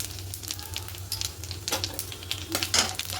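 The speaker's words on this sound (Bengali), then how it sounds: "এবার তেলের মধ্যে ফোড়নে দেব কালো জিরে পাঁচ ফোড়ন আর সামান্য একটু হিং দেব" Nigella seeds, five-spice and a pinch of asafoetida crackle in hot oil, producing a short burst of close sizzling with sharp pops and faint stirring over a low hum.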